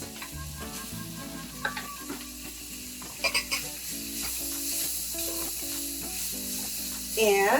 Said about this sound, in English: The onions are looking nice and soft now, so I'm going to go ahead and add the tomatoes.